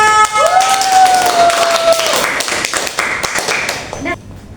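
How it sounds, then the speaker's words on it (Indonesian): A primary-school class clapping hands together for a classmate, a dense burst of many small hands that fades near the end, with a high whistle-like tone sliding over it early on. "tepuk tangan buat Siska"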